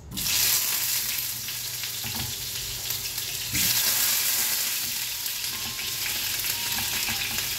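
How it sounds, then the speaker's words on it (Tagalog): Steady crackling sizzle of potatoes frying in hot oil, close and continuous, with occasional stirring scrapes and a brief louder surge partway through. "Prito muna natin yung patatas."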